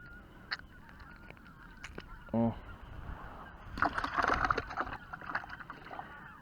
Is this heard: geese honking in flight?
yes